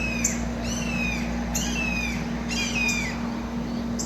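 A red-shouldered hawk calling at dawn, repeated descending screams in pairs and short series, clear but somewhat distant over a steady low hum.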